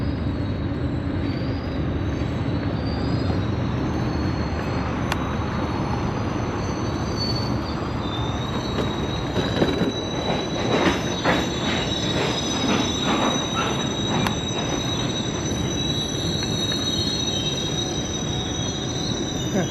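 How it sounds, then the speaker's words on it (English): Slow train rolling beneath a bridge on a bike path, its wheels squealing in long high sustained tones over a steady low rumble, with some faint rhythmic clacking midway; no talk. "That sound is from a train going very slowly underneath the bridge."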